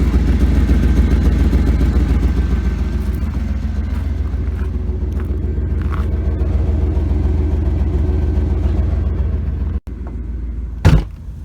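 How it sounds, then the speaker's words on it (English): A 1998 Jeep Grand Cherokee Limited with the 5.2-liter (318) V8 idles steadily, its exhaust giving a low, even rumble close by for several seconds, followed near the end by a single short knock like a door. "I'll get out so you can hear that exhaust I was talking about."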